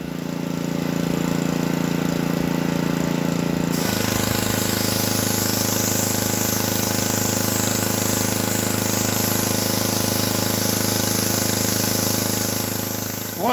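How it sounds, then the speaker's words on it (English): Pressure washer with a sandblasting attachment firing abrasive at a tractor wheel hub, a loud unbroken roaring hiss that jumps in intensity partway through as the blast stream opens up, close and continuous with no talk. "an attachment to shoot sand or whatever kind of abrasive you want through your pressure washer"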